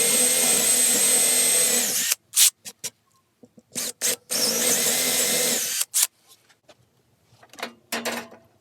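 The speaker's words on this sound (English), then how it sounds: "all I got to do now is drill these down, drill into these a 1/2 inch deep." A power drill bores half-inch-deep holes into old closet shelving being repurposed as a canned food rack. There are two long, loud whirring runs and several short trigger bursts in between, all close up.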